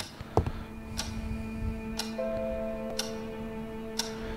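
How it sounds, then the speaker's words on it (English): A grandfather clock in the game Scratches ticks loudly and steadily, one sharp tick about every second, over a low constant hum, with a soft tonal chime rising briefly midway. "very loud grandfather clock there"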